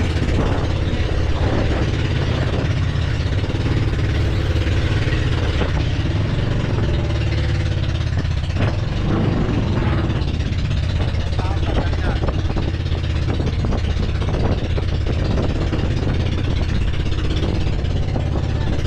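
A boat engine drones continuously at close range, a steady loud mechanical hum with water-vehicle character, while faint voices come and go beneath it.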